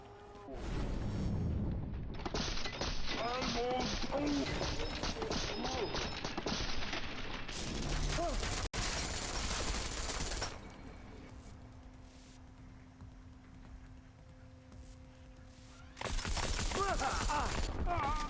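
Automated turret in Deus Ex: Mankind Divided firing dense, rapid bursts amid loud game combat noise, pausing midway with quieter ambience and a steady hum before the barrage resumes near the end.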